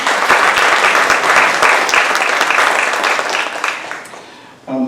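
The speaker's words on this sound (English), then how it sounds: "let's give another round of applause to our fantastic presenters" A workshop audience gives the presenters a round of applause, steady and fairly loud, tapering off near the end as a voice begins.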